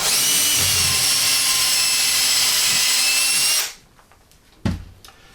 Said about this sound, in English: And again, just going to drill it.